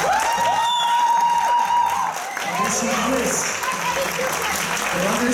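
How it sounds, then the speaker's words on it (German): Audience applause for competitors at a German youth, junior and masters bodybuilding championship, sustained clapping that runs through the whole stretch with a host's voice speaking over the first part. "dafür haben sie denen schon einen Applaus verdient"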